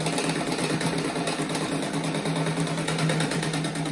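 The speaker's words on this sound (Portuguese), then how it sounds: "Agora aqui eu vou fazer mais uma costura na mesma largura daquela." Sewing machine stitching a seam in fabric for a round rug, a steady continuous mechanical hum and rapid needle chatter, close and moderately loud, running alone without talk.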